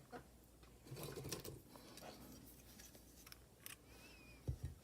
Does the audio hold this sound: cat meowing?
no